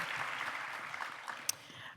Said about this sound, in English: And if you could give them a round of applause